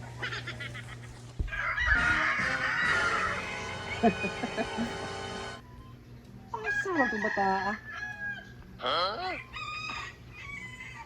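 A rooster crows loudly up close, a long strained call, followed by clucking and further squawks as a person speaks briefly.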